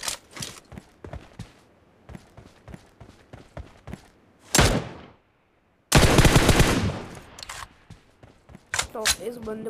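Gunshots in PUBG crack out as sharp, irregular single shots and short bursts, near and punchy, then a longer dense burst of rapid fire, with quiet gaps between and someone talking faintly at times.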